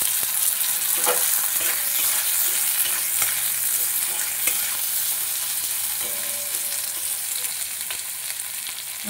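Capsicum sizzling in a pan for a mixed vegetable dish, a steady loud frying hiss throughout with occasional stirring scrapes, slowly fading a little toward the end.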